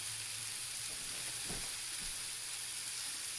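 Constant crackling sizzle of steak searing on a hot grill, close and steady, with a couple of soft thumps partway through.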